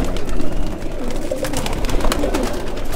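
Pigeons cooing steadily amid a busy flock, with soft wing flutters and rustling throughout; dense, close and continuous.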